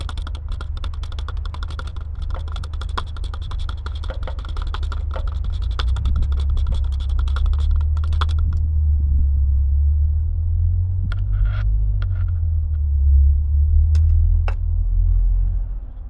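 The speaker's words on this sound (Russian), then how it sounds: "Ну а теперь Заводим машину." A car is started partway through a CVT transmission oil change. Sharp clicks and taps come first, then a low, steady engine rumble builds and holds as an even idle, with a few scattered clicks over it.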